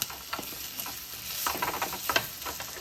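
Brain fry sizzles gently in a pan, a soft continuous crackle broken by scattered small pops and stirring scrapes, heard alone at a quiet level.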